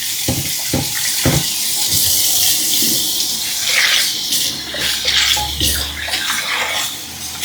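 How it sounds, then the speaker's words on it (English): Water from a tap gushes loudly and steadily into a 5-ply 316 stainless steel frying pan during rinsing, with faint splashing and scrubbing shifts in the flow close up. "Just kind of rub it, get the oil off of there, and rinse it off."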